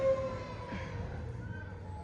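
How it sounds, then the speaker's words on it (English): A faint, distant ambulance siren wails over low background noise, its pitch holding then shifting slightly. "Oh, there go the ambulance. Y'all hear that?"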